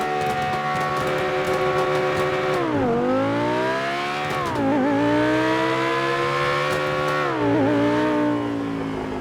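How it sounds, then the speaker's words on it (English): An Obey Nine R sports car in a racing video game, modeled on an Audi R8 V10, holds its engine at high revs and bounces off the rev limiter in a sustained buzzing wail, dipping and climbing again several times. "Bounce it off the rev limiter."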